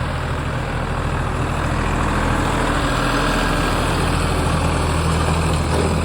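Tractor engine idling in a farm field, a steady low diesel rumble holding at an even level for several seconds, moderately close, with no voices over it.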